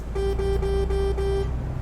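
A Mercedes-Benz Travego 16 SHD coach bus in Euro Truck Simulator 2 sounds a steady electric horn in a single sustained honk lasting over a second, over a low engine hum.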